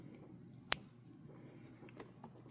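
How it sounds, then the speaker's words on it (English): Scissors snipping excess synthetic material at an angle while tying a Comparadun mayfly, one crisp, close snip standing out from a faint, quiet background, with a lighter click just before it. "When you snip it off at an angle, and that will help with the body taper."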